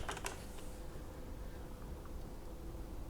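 Computer keyboard typing, a brief cluster of key clicks at the start followed by a quiet, steady low hum.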